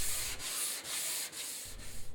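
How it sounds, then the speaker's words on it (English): Steady whirring and rasping of a random orbit sander working across wood, with a rhythmic rise and fall as it moves, close and continuous. "Start sanding with your random orbit sander using 80 grit, then 120 grit, and finally 180 grit."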